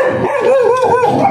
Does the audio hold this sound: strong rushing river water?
no